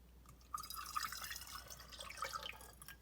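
Half a cup of water poured through a funnel into a spray bottle for a homemade fridge cleaner, a soft steady trickle and dripping that starts after a brief pause and runs close and alone to the end.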